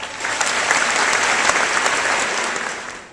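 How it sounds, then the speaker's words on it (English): A commencement audience at Central Michigan University applauds in a dense, steady wash of clapping that holds for about three seconds before easing off. "Please join me in a round of applause."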